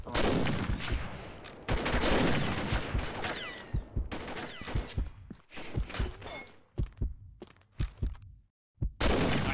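Gunfire in the online shooter Combat Arms: dense bursts of automatic fire and single shots, with footsteps and impact clatter between volleys, and one brief silence near the end.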